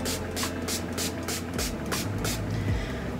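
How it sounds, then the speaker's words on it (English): Rapid, repeated spritzes from a small spray bottle of water onto curly hair, about nine quick hissing bursts in an even rhythm, close and fairly loud. "I used a little spray bottle of water to touch up the parts that don't."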